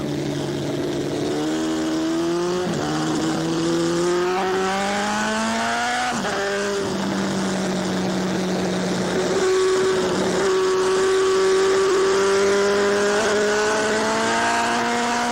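A 1980s AMA Superbike racing motorcycle accelerates hard up a hill. The engine is loud and continuous, its pitch climbing steeply through each gear with brief dips at the upshifts, and no voices are heard.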